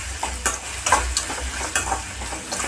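A spoon stirs tomato masala, seasoned with turmeric and salt, as it fries in a pan. Rhythmic close scrapes and knocks come over a continuous low sizzle.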